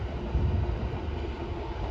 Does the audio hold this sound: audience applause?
no